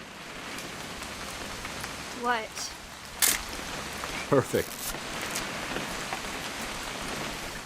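Steady rain falling on surfaces in the game What Remains of Edith Finch, a constant soft hiss carrying on throughout, with brief spoken lines over it.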